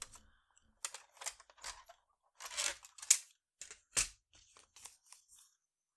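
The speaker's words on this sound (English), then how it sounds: "So I'll go ahead and trim that off." Paper being trimmed for a handmade mini album: quiet, intermittent crisp cutting and slicing bursts with brief pauses between them, close up, with no voices.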